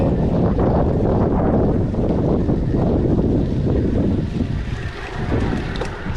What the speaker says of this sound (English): Copping a little bit of headwind.